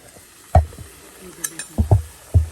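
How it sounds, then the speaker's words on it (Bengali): A batter-coated bowl mould dipped into hot oil for frying, giving a few sharp bursts of sizzling and splashing with quiet gaps between them, close up and without talking. "আমি গরম তেলের মধ্যে আবার চুবিয়ে দিয়েছি।"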